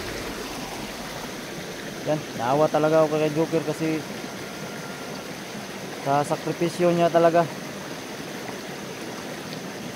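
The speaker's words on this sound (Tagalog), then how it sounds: "dito sa ilog." A river flows at night with a steady, close rushing murmur that runs throughout, while someone speaks in two stretches over it.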